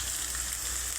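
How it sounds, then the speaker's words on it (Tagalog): Tomatoes sautéing in a hot pan while cooking moringa pods, a steady close sizzle and crackle with no pauses and no voices. "Gigisa lang natin mga lods. Kamatis"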